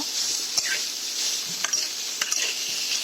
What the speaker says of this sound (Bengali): এরপরে আমি যে সয়াবিনগুলো চিপে রেখেছিলাম সেই সয়াবিনগুলো আমি ভালো করে ভেজে নেব।